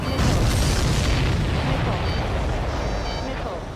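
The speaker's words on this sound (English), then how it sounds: "Missile hit the supply ship dead on." Missiles exploding against a supply ship in the video game Ace Combat 7, a dense continuous rumbling roar of blasts that stays loud and fills the whole moment before slowly easing off.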